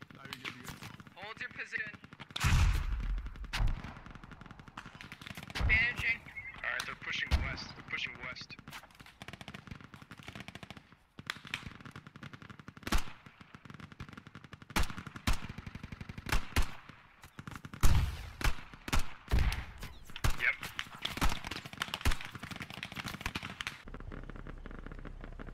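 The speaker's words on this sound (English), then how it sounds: "Large exchange of fire on the north side." Gunfire exchange in the military shooter game Squad, with bursts of rifle and machine-gun fire, scattered single shots and occasional heavier blasts, spread across the scene at varying distances, with radio chatter and voices talking over much of it.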